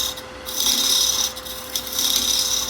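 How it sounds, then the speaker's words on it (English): A 3/8 spindle gouge cuts wood on a lathe, reducing a spindle's diameter: a steady, close rasping scrape with a constant motor hum under it, loud and continuous, with no talk. "Now I'm just using the same 3/8 spindle gouge. I'm reducing the diameter here."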